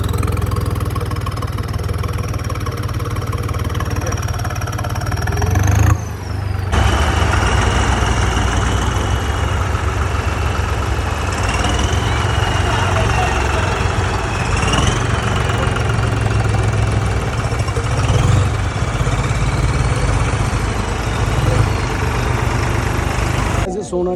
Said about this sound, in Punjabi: ਟਰੈਕ ਦੇ ਅੰਦਰ ਐਂਟਰ ਕਰ ਲੈਂਦੇ ਆ ਟਰੈਕਟਰਾਂ ਨੂੰ